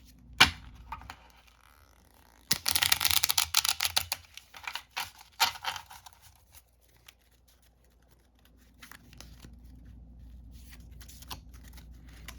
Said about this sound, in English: give it a quick shuffle again